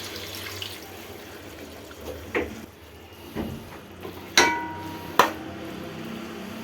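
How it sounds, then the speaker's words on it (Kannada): Water splashes into a mixer grinder jar amid a few sharp metallic knocks as ground masala is rinsed out, close by. "ಮಸಾಲೆ ತೊಳೆದು ನೀರು ಹಾಕ್ತಾಯಿದ್ದೀನಿ"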